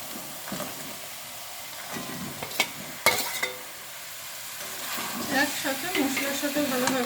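Prawns and potatoes drop into a cooked spice paste and fry, with sharp spattering bursts and clattering stirs over a moderate sizzle that grows busier toward the end.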